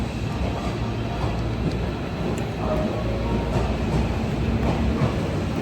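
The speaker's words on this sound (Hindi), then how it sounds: "मेरा ट्रेन आ गया" A train pulls into a station in Japan, a steady low rumble of wheels and carriage noise running throughout without any talk.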